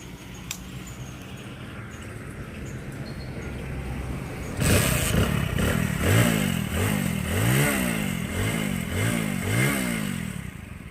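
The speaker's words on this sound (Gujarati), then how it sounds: "ચાલુ કરીને બતાવી દઈએ એન્જિનનો અવાજ તમને." A twelve-year-old Hero Splendor Plus motorcycle engine, freshly overhauled, starts after a few seconds of low background noise, then idles loudly and close with a series of rhythmic revs rising and falling.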